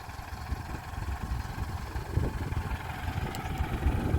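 A small farm tractor idles at a railway bridge construction site, a low, steady rumbling engine throb that sits fairly far off and quiet, with no talk over it.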